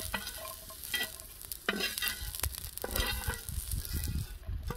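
Okra dry-roasting in an iron pan, with a soft steady sizzle broken by several close scraping bursts as it is stirred. No one speaks.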